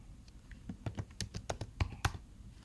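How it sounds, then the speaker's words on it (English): Someone types a short word on a computer keyboard, about a dozen close, crisp key clicks in a quick, uneven burst, with no talking. "I'm going to type in garlic"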